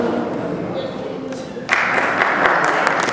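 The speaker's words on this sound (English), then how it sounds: "See, everybody's clapping." An audience at a memorial gathering breaks into clapping partway through, with applause swelling suddenly and continuing under background crowd noise and talk.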